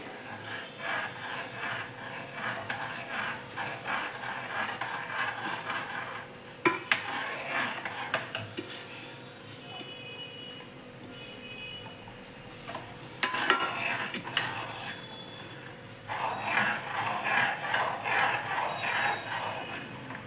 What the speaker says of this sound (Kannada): ಈಗ ನಾವು ಹಿಂಗೆ ಕೈ ಆಡಿಸ್ಕೊಂಡಂಗೆ ರವೆನ ಹಾಕೋಬೇಕು ಕೈ ಆಡಿಸ್ತಾನೆ ಇರಬೇಕು